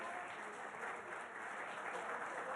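Studio audience at a televised political debate applauding the winner: broad, steady clapping fills the whole stretch at a moderate, even level with no break.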